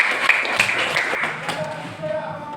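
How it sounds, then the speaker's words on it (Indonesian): Classroom clapping for a student in a lesson, a short burst of claps from a group of children, loud and close, with voices talking over it before it fades out. "Tepuk tangan untuk Aulia."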